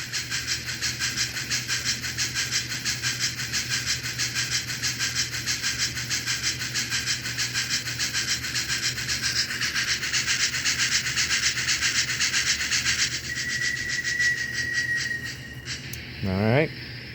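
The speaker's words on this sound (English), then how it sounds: "hit the brake, and you'll hear how the brake squeal is built in" American Flyer Northern model train with a PS3 sound system, steady rumbling chuff and hiss that shifts pitch, ending in a brief rising brake squeal at the close, heard near and moderately loud.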